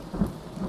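Thunderstorm in the colony game Mind Over Magic: a short rumble of thunder over steady rain hiss, moderately loud with no voices.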